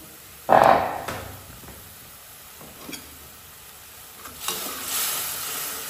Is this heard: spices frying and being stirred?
yes